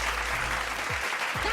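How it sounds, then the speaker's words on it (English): Applause from an online art showcase audience, a steady dense clapping throughout at moderate loudness. "I want to give a big round of applause to Sapphire for sharing,"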